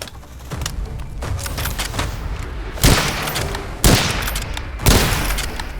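Gunfire in the soulslike shooter game Witchfire: three loud, sharp shots spaced about a second apart over a dense, busy game soundscape.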